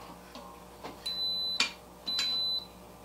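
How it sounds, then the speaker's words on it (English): An Instant Pot electric pressure cooker beeps as it is switched to saute mode for balsamic garlic chicken: two sustained high electronic tones, each about half a second, close and clear over a quiet kitchen background with faint clicks. "That beep just means I switched to saute."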